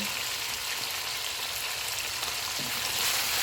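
Crushed black pepper, green chillies, ginger and coriander cook in a pan for a chicken karahi, with a soft, steady frying hiss and faint crackle that stays even and fairly quiet throughout.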